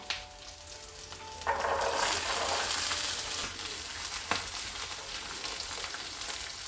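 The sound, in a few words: green peas frying in pan with cumin and ginger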